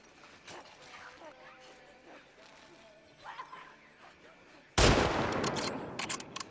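A shotgun blast in The Last of Us, one sudden loud boom near the end with a rough, decaying tail, after a stretch of quieter game sounds and murmuring voices.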